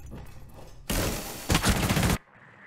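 Dense, loud gunfire from the video game Rainbow Six Siege comes in two sustained bursts lasting over a second, then cuts off to quiet room noise.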